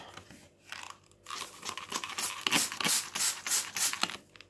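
Plastic bag rustling and crinkling close by as it is set over tomato seedlings, rising from a few soft rustles into a dense run of crackly crinkles.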